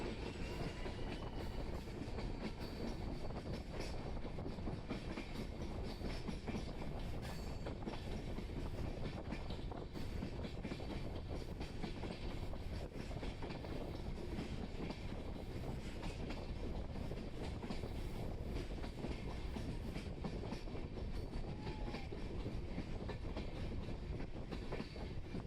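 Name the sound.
train running on rails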